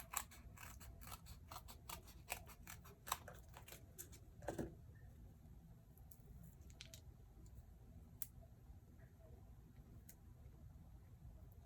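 Scissors snip through paper for a paper pumpkin craft, a quick run of close, crisp cuts in the first few seconds followed by a few sparse snips over a quiet background.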